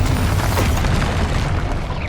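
Confringo blasting spell exploding in Hogwarts Legacy, a loud, dense, rumbling burst that fills the whole moment and fades slightly at the end, with no speech.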